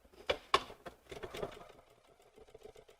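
A Bernina sewing machine with a #10 edgestitch foot stitches along a seam that was pressed open, making faint, brief, close mechanical bursts of stitching, with no voices.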